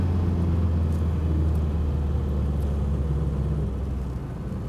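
A 1959 Mercedes 180D diesel sedan driving on a road, its engine a steady low drone and rumble with tire and road noise that eases slightly toward the end, with no talking.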